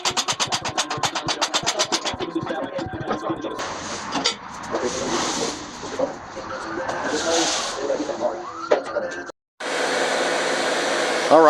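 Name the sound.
heat gun running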